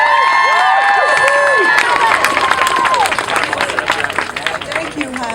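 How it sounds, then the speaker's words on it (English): Crowd applause and cheering for an honoree at a Walk A Mile In Her Shoes campus event, steady clapping with whoops and shouts across the whole stretch, fairly loud and continuous. "Let's give a round of applause for Helen."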